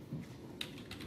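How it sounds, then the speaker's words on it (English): Keys clack faintly on an Avonn LED gaming keyboard, a few soft irregular taps over a low background hum. "You were typing upside down."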